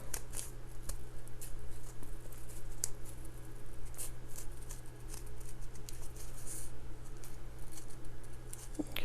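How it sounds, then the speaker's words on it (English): Scissors snip steadily through paper along a dotted line for a small handmade mini journal, a soft, continuous patter of close cuts over a low background hum. "I'm going to start cutting that curve. And just cut all the way around where the dotted line is."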